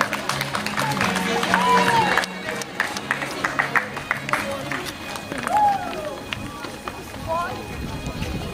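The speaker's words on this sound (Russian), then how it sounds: "Итак, награждается Александр Витальевич, аплодисменты." An audience applauds at a school's end-of-year assembly award ceremony, uneven scattered clapping that swells and fades, with voices and a few whistles mixed in.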